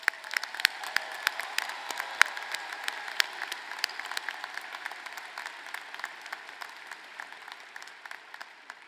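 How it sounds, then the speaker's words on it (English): An audience at a spring commencement ceremony breaks into sustained applause, many hands clapping in a dense, even patter that holds steady and eases slightly toward the end, with no voices over it. "Please join me in showing appreciation with a round of applause for their efforts."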